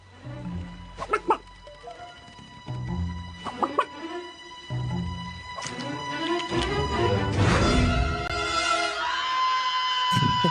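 A cartoon chicken clucks in short bursts over a musical soundtrack, followed by a crash and a swelling orchestral passage, all played back at moderate loudness with no speech.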